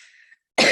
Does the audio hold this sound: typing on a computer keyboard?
no